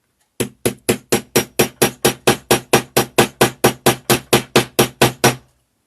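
A hammer strikes a snap setter on a small leather mini wallet about twenty times in a steady, even rhythm, each blow sharp, loud and close, with silence afterward.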